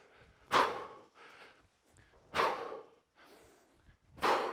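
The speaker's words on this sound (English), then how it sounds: "You can hear my breathing." Three forceful, rhythmic exhalations roughly two seconds apart during a kettlebell workout, each a sharp huff of heavy breathing, with quieter inhales between, close up and without speech.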